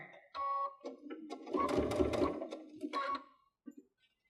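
A Baby Lock Unity sewing machine stitches twisted cord trim in a fast, steady mechanical whir that runs for a few seconds and then stops, ending with a couple of faint clicks.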